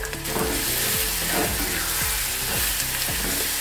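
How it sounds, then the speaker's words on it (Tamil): Ground garlic and small shallots sautéing in hot coconut oil, with loud continuous sizzling close by and rhythmic scraping stir strokes repeating through it. "இப்போ நம்ம அரைச்சி வச்சுருக்கிற பூண்டு சின்ன வெங்காயம் இதையும் சேர்த்து இப்போ நல்லா வதக்கலாம்."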